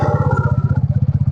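TVS XL100 moped engine just started, puttering with a fast, even rhythm of low thumps at close range, loud and alone.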